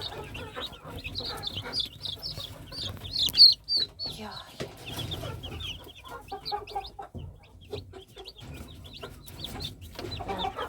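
Chinese Silkie chicks peep in rapid, high chirps, scattered and overlapping, with a voice talking quietly underneath.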